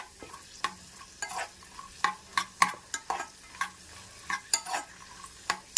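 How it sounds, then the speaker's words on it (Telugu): Dry fruits fry in a pan for moong dal payasam and are stirred, giving a faint sizzle broken by frequent sharp clicks and taps of the spoon on the pan. "మంచిగా అయితే ఇలా వేయించేసుకోవాలి."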